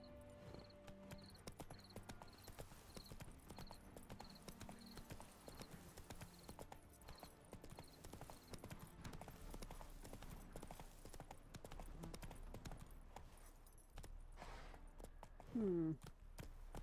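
Horse Roach's hooves in the game The Witcher 3: Wild Hunt, a steady rapid clip-clop of galloping that runs throughout, ending in a short whinny near the close.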